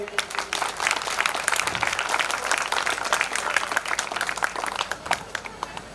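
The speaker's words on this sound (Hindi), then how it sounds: "तो एक बार सब जन जोर से तालियां बजाइए" An audience at a Smart City Nagpur cyber crime awareness event claps loudly and steadily, a dense crackle of many hands filling the room for several seconds.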